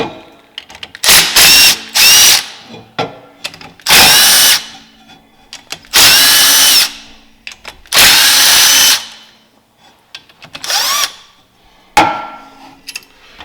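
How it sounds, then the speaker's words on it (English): A drill press runs in several loud bursts of a second or two each, separated by short pauses with small clunks and handling noises, during a Polaris P22 roller bearing delete. "take the drill press and run it down to where it's holding"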